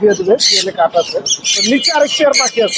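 Lovebirds at a busy bird market in Mirpur, loud close squawks and shrill chattering calls packed densely together, overlapping almost continuously.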